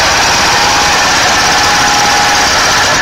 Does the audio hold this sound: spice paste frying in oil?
no